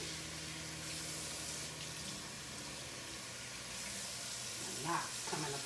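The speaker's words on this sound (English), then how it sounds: "Start running the water because the bundle's kind of hot." Tap water running steadily into a sink while hair bundles are rinsed, a continuous close hiss with a few splashy surges near the end.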